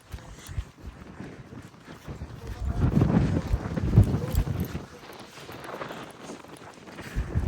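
Gusty wind outdoors in open country buffets the microphone with a low, rough rumble that swells and fades over several seconds.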